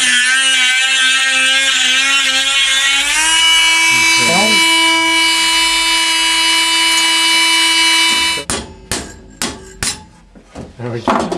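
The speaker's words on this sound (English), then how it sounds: "Luckily, we have a cutting tool here," A Dremel rotary cutting tool cuts through old motorcycle spokes with a loud, steady high-pitched whine. The motor spins down partway through and is followed by a run of sharp metallic knocks and clatter close by.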